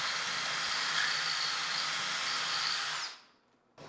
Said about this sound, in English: I even used this drill right here